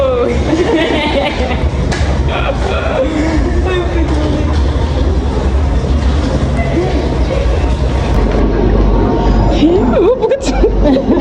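Metro train rumbles and rattles steadily underneath, with loud chatter and laughter from nearby passengers over it throughout.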